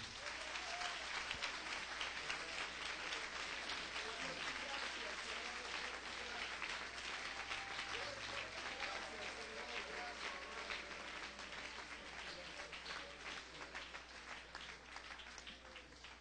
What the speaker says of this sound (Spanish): déle el aplauso al Señor